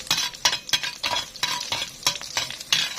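Sheep tail fat melting in a pan with a spoon of ghee and two spoons of oil gives a close, steady sizzle, with repeated scraping and clinking stirring strokes about every half second.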